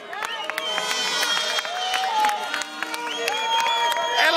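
A crowd cheers and shouts at an outdoor cart race, the Cariol Race Trophy 2012, a dense continuous roar of voices and whistles, fairly close and steady, with excited individual shouts rising through it.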